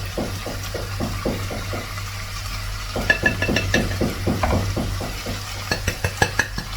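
A spoon stirs spices into a pot of creamy chicken stew in a steady rhythm of scraping strokes, close and moderately loud over a low kitchen hum, with brighter clinks against the pot toward the end.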